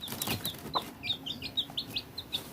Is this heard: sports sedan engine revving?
no